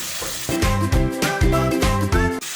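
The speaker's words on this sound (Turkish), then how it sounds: "Birazcık çok az su atıyorum." A spoonful of water hits a hot pan of tomato paste while cooking a Turkish chickpea and sucuk stew, setting off a loud, close, continuous crackling sizzle with rhythmic bubbling pulses.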